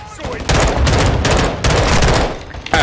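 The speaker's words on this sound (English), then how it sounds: "machine gun time" Sustained bursts of rapid machine-gun fire in Call of Duty: Modern Warfare 2, loud and close, with two long volleys separated by a brief pause and voices talking in the mix.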